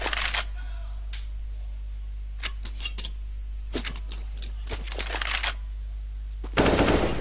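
Sharp bursts of AK rifle gunfire from a Counter-Strike match between FaZe and NiP, a few short volleys spread across the moment, with a loud noisy burst near the end.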